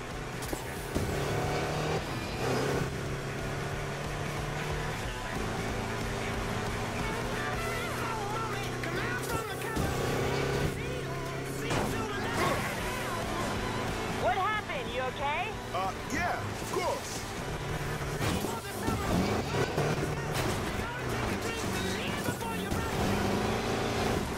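Race cars roaring through the game Need for Speed Payback, engines droning and revving with whooshing pass-bys and crashes, loud and continuous under an overlay of speaking voices and game music.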